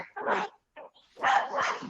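A dog barks in two bursts with a short yip between, close and fairly loud, with no talk over it.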